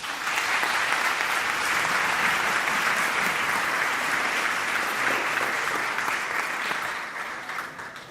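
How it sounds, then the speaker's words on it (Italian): Sustained applause from a large audience at the closing event of a national choral competition in Vittorio Veneto, a dense steady wash of many clapping hands lasting several seconds before tapering off at the end. "Un applauso a voi."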